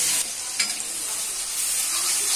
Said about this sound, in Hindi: यहाँ मैं ब्राउन होने तक बढ़िया से 2-3 मिनट तक भूज लूंगी।